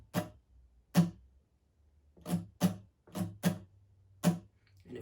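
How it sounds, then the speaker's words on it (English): Guitar strums slowly in an up-down-down pattern, with about seven separate, evenly spaced strokes that are bright and percussive, fairly quiet and close, with no talking. "So the pattern slowly sounds like this."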